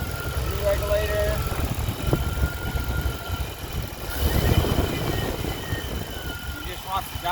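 A car engine with a TBI throttle body issue that dies past quarter throttle, idling and revving unevenly with a rough, fluctuating rumble while someone talks over it.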